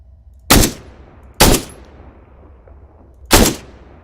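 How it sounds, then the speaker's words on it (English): Three loud, sharp bolt-action rifle shots from the Marksmen DLC video game, spaced unevenly with short decaying tails and quiet between them. "Sounds like a bolt action."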